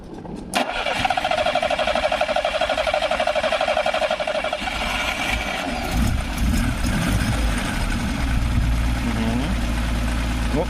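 A car engine is cranked with a Promate PatrolPack-2 12000 mAh 2000A jump starter booster attached. A loud, rapid rhythmic churning runs for several seconds, then shifts into a rougher, sputtering turnover that continues close and loud.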